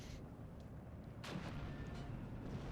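A 57mm anti-tank gun fires in the Steel Division 2 wargame, a faint low boom within a dense rumbling battlefield din, with another distant shot following shortly after.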